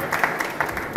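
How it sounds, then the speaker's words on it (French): Brief audience applause for a media innovation prize winner at the 104 venue in Paris, a crowd clapping with a few distinct hand claps, moderately loud, with speech over it. "Bravo, on peut l'applaudir"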